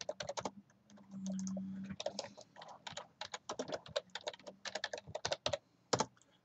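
Rapid typing on a computer keyboard while entering terminal commands, close and fairly quiet, with bursts of keystrokes, short pauses, and one brief low hum partway through.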